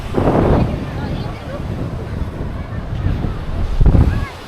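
Wind buffets the microphone and waves wash in on Knokke-Heist North Beach in Belgium, a loud, rough, continuous rush with gusty swells, while a person talks over it.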